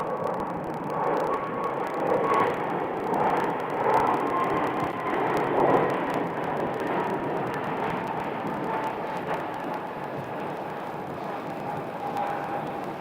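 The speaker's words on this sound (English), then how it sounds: "Here's our first Frontier flight departing." A Frontier Airlines jet departing Phoenix Sky Harbor airport, heard as a steady, broad roar from a distance that holds level and then slowly fades, with no talk over it.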